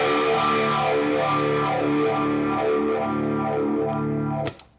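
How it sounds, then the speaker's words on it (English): An electric guitar chord run through a phaser into heavy distortion, the sweeping phaser swirl rising and falling, sustained loud, then cut off at the end. "I'm getting a really clear signal into the phaser, which is then hitting the distortion."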